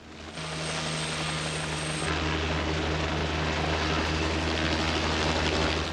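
A helicopter in the 1982 film Piranha II: The Spawning: steady rotor drone and engine hum fill the scene continuously, loud and close, with a thin high whine dropping away partway through.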